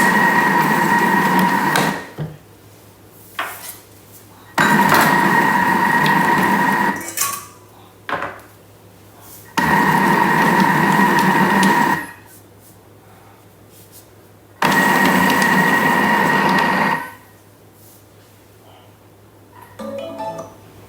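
A Thermomix on dough mode mixes cookie dough with chopped chips in four short bursts of a few seconds each, a rhythmic mechanical churning whir separated by quiet pauses with faint handling clatter.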